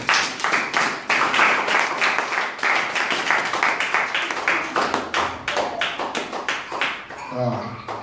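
A church congregation at a French-language thanksgiving service claps in fast, rhythmic unison, dense close applause that carries on steadily before tapering near the end, with a voice speaking briefly over it.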